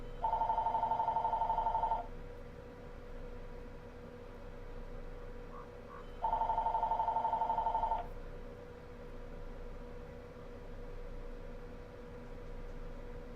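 A telephone rings in the background of a Life is Strange play session, two long electronic bell bursts about two seconds each, separated by a pause, steady and moderately loud over low room hum.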